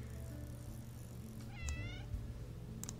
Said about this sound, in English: I like the little meow, it's so cute.